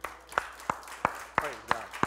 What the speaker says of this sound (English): Give him a hand clap this morning, will you?